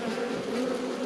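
Honey bees at the entrance of a beehive make a steady, dense buzzing drone. The sound is close and continuous, with no voices over it.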